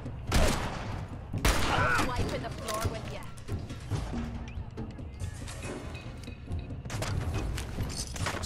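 Gunfire from the video game Fallout 4 cracks out in scattered bursts against a busy, layered background of game noise, loud and close, with a voice talking over parts of it.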